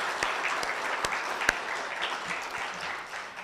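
Audience at an oratorical contest clapping for helpful teachers, a moderate crowd applauding steadily with a few sharp individual claps standing out, tapering off near the end.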